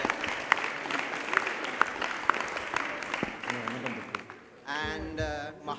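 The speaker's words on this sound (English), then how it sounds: "Please applause for them." Audience applause at a satsang mela gathering, steady broadband clapping from a crowd that fades near the end before a voice speaks briefly over the room.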